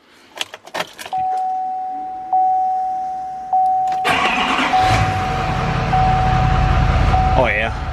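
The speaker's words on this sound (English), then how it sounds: "Let's give it a start and see if it idles better." Keys jangle, a door chime rings steadily, then an L5P truck diesel engine cranks and catches, settling into a steady rumbling idle up close while the chime continues; a voice is briefly heard.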